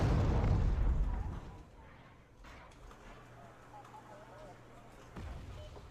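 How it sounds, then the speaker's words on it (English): Heavy artillery fire and explosions in the Wargame: Red Dragon video game, beginning with a loud rumbling blast that fades into a low, distant roar, followed by another deep boom near the end, under a speaking voice. "Really accurate artillery"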